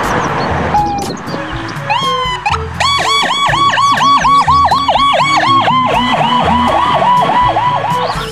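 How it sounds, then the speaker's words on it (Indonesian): A toy ambulance plays a loud, fast electronic siren with rapid repeating wails and beeping tones, close and steady, alongside a short toy jingle. "ini mobil ambulans."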